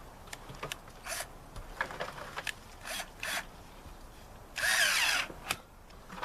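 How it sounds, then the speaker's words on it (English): A power drill tightening stainless steel bands in a crawl space whirs in several short bursts, each trigger pull ending quickly, with one longer, louder run near the end. "Now we're ready to tighten that up with our drill."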